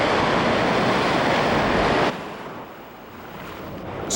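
Ocean waves surge against coastal rocks, a loud roaring wash that drops suddenly to a softer hiss partway through and then swells again at the end, with wind buffeting the microphone.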